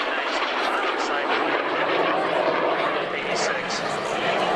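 A North American F-86 Sabre jet flying past at an air show, a steady broad roar of jet engine noise throughout, with an announcer's voice over it.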